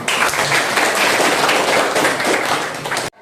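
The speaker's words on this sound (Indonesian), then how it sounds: "Nah, tepuk tangan dulu." Applause from an audience at a PPG IAIN Sultan Amai Gorontalo session, a loud, dense wash of many people clapping that holds steady, then cuts off abruptly near the end.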